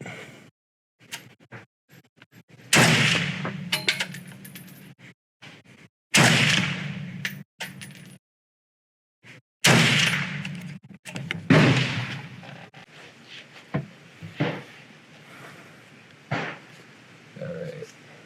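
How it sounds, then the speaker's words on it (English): An FN SCAR 20s rifle fires three shots, each a loud, sharp blast with a ringing decay, spaced a few seconds apart, with voices talking around and between them. "next round coming up. 3 shots."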